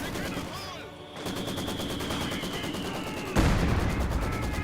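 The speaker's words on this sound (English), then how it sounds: "120mm mortar now firing away" Video game Company of Heroes 2 battle with a 120mm mortar firing: a steady rattle of rapid gunfire under faint voices, then a louder heavy blast near the end that leaves a rumbling wash.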